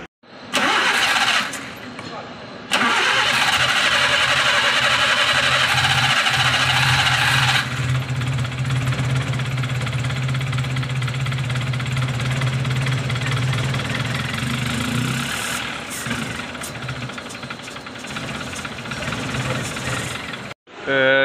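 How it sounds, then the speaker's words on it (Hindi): A Daihatsu Move Max engine cranking and catching after water-damage ECU repair, a brief crank then a loud start settling into a steady, slightly knocking idle close by, with someone talking over it. "जी अल्हम्दुलिल्लाह गाड़ी स्टार्ट है"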